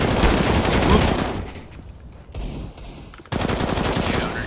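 Video game gunfire comes in loud, dense bursts of rapid automatic shots, then breaks off into a quieter gap before another heavy volley resumes.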